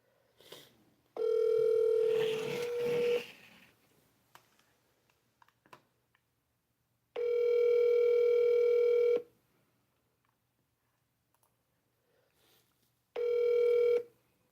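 An outgoing phone call rings back in long steady tones, three rings separated by silent gaps, clear and alone with no talking.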